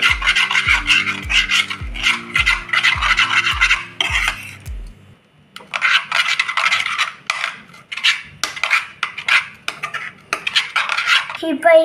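A spoon stirring thick chocolate cream in a pan, with rhythmic metallic scraping and clinking close up, a brief pause midway, then more uneven scraping and rubbing.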